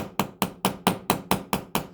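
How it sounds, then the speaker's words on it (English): Hammer striking a rivet through a metal backer plate and leather belt, eight light, evenly spaced taps close up, each a sharp metallic click with a short ring. "It's all about controlling the hammer and hitting it where you want to hit it."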